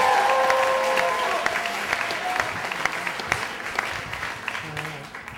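A storytelling-slam crowd applauds as Mike comes up to the stage, loud sustained clapping with some cheering voices and murmur underneath.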